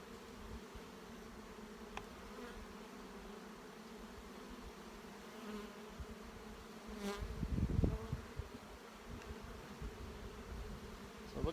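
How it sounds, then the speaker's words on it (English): A steady, low buzz of many honey bees around a hive hums throughout, with a brief louder swell of nearby buzzing partway through. "Got some bees up here."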